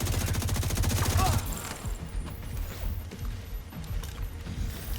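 Gunfire in the video game The Division 2: a dense, rapid burst of automatic shots opens loud and close, then gives way to quieter scattered shots and game noise.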